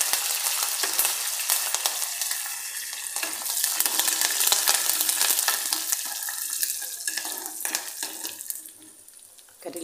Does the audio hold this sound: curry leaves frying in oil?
yes